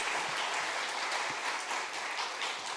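Congregation at a church retirement and installation ceremony clapping in welcome, a bright continuous wash of many hands, steady and fairly close, with no voices over it.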